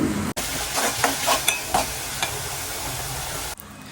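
Dried shrimp tossed into a pan of sautéed chillies, a close, loud frying sizzle with repeated stirring scrapes over about three seconds, ending abruptly.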